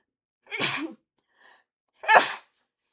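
A person sneezes twice, two loud, close, explosive bursts about a second and a half apart, with a faint small noise between them in an otherwise quiet room.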